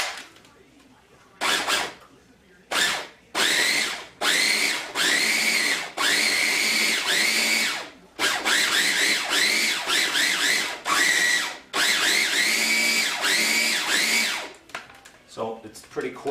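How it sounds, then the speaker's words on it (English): Food processor pulsing bread pieces into crumbs, a loud close motor whirring in a run of short bursts of varying length separated by brief pauses. "put them in your food processor. Then I'm going to pulse it until they're semi-finely browned."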